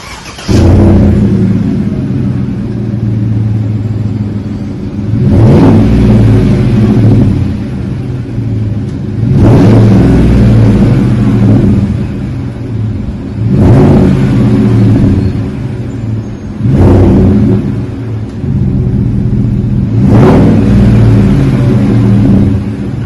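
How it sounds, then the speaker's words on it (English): A 2018 GMC Sierra with a Flowmaster 40 muffler and 4-inch rolled stainless steel tips, revved repeatedly: five or six loud, deep exhaust swells rising and falling over a steady rumbling idle, close and without talk. "Got that old school Flowmaster rumble to it."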